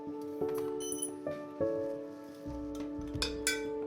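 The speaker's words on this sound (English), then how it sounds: "First, a special tool is used to roughly scrape the tile." A special scraping tool works a roof tile into shape, giving bright ceramic clinks and ringing tones in short uneven bursts, close and fairly clear with no talk.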